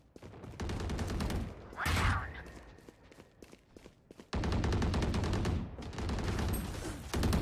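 Rapid bursts of gunfire ring out in Valorant, several loud fusillades separated by short pauses, with a sharper whooshing effect in between.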